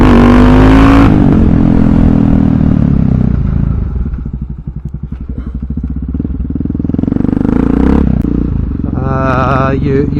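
SM610 motorcycle engine, a loud close rumble that idles with a throbbing pulse and then revs up near the end, with a voice talking over it.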